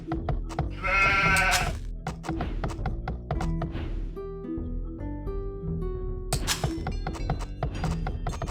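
Sheep in Age of Empires II bleat several times over game music, loud and close, with one long wavering baa standing out near the start.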